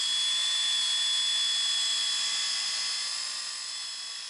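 A Rupes Hybrid Nano polisher whines steadily while buffing a car wheel during ceramic coating prep, a constant high-pitched motor tone held close and loud, easing off slightly near the end.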